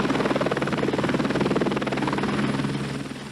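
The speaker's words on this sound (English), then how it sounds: "The choppers were then used to ferry the wounded back to Hobart" A military-style chopper ferrying wounded from Port Arthur to Hobart, a loud continuous rotor thump with a rapid regular beat and a steady whine, close overhead and fading slightly at the end.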